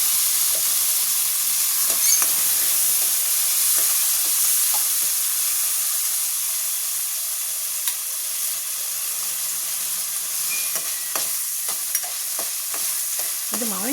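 Cumin seeds and cut raw mango sizzle steadily in hot oil, a loud continuous crackling hiss with occasional pops and spoon scrapes, and no talking.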